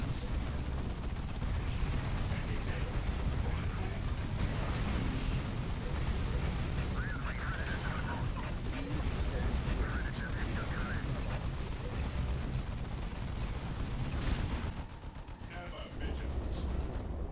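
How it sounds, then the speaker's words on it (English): Autocannon fire rattles through a dense, continuous battle din in the Warhammer 40,000 video game Unification mod, with booms and clatter layered loudly throughout and a brief lull near the end. "Auto cannons."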